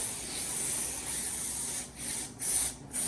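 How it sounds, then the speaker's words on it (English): A spray bottle mists cleaning liquid onto a carpet tile area at home, giving a close, steady hiss with a few short breaks toward the end. "I'm gonna spray on this area now."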